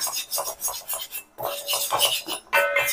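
A spoon scrapes and rasps through false daisy (karisalankanni) powder as it fries lightly in a pan. The strokes come close, loud and rhythmic, with a short pause midway.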